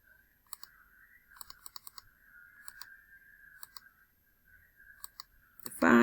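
A computer mouse clicks sharply several times, in quick pairs and single taps, over a faint steady hum, ending in a sudden louder noise.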